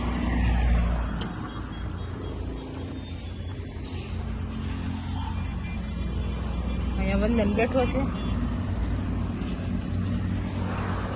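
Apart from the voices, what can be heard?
road traffic, vehicles passing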